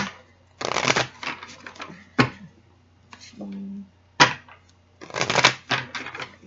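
Tarot cards shuffled for a Libra monthly reading, crisp riffling bursts and sharp taps coming in several separate rounds, close and fairly loud, with brief quiet gaps and a low hum underneath.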